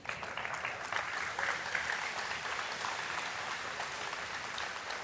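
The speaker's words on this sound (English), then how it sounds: "Give yourselves a round of applause" A crowd at a talk or presentation gives a round of applause, a dense, steady wash of many hands clapping that holds evenly for several seconds at moderate distance.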